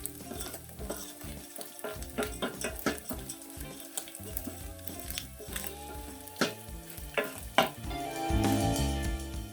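Small omena fish fry in a pan with salt, a close crackling sizzle broken by repeated scraping and clattering strokes as the fish are stirred and turned, with no talking.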